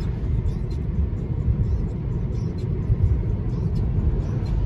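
A car driving itself in automatic mode, heard as a steady low cabin rumble and road hum that runs throughout without any break.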